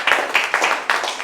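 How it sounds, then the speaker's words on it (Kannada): A handful of people clap briefly in a room, a few scattered, uneven claps in quick bursts at close range, with a faint voice underneath. "ಒಂದು ಚಪ್ಪಾಳೆ ಹೊಡೀರಿ ಸರ್ ಎಲ್ಲರೂ"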